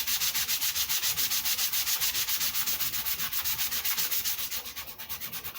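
Sandpaper rubbed by hand over a Les Paul-style guitar body, a fast steady back-and-forth scratching in even strokes, close and fairly loud with no voices.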